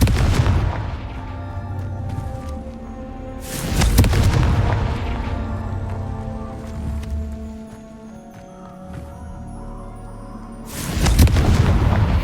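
Confringo fire spell explosions in Hogwarts Legacy on PS5: two loud booming blasts, one near the start and another around four seconds, then a third near the end, over a layered game music and ambience bed.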